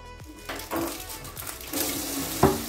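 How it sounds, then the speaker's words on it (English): Tap water running over a pineapple being washed in a kitchen sink, a soft steady splash with small clunks and handling noises, faint and close. "first I'm going to wash my pineapple"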